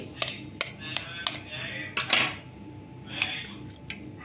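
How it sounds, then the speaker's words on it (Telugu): Two eggs tapped and broken into a mixer jar while making a sponge cake, heard as a series of sharp, close cracks and clinks against the rim, spaced irregularly, over a quiet kitchen background. "సో ఇవి ఇలా పగలగొట్టేసుకొని మిక్సీ జార్లో వేసేసుకుందాం"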